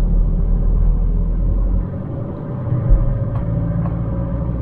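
A car with paddle shifters pulls through its gears around 2000 RPM, giving a loud, low engine rumble that dips briefly midway as a gear changes and then carries on steadily.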